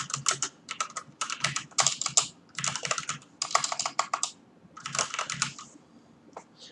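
Rapid bursts of typing on a computer keyboard as a question is written into a form, close and crisp clicking in several quick runs with short pauses between them.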